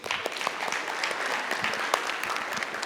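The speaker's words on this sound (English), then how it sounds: "Special claps for them." A short burst of clapping from a small group, brisk and scattered, heard alone without talk.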